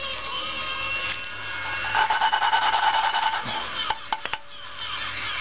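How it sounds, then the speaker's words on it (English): Engine valve on a SOHC Neon cylinder head being lapped with a suction-cup dowel tool and grinding compound, giving a close, gritty rasping scrape that comes in rhythmic back-and-forth bursts, then a few sharp taps. "you're basically trying to hear for it to stop grinding and get smooth"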